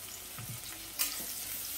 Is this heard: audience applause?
no